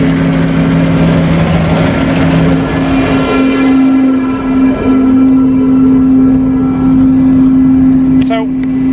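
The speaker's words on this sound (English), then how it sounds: "Oh dear, got a big tractor in my way." A big farm tractor on a Dutch country road gives a steady, loud, droning engine hum with a strong low tone as it is passed, followed by a brief rising whine near the end.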